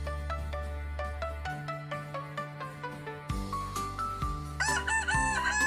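A rooster crowing in a Kazakh fairy tale, a stylized warbling crow rising near the end over bright plucked melodic music with a steady pulse.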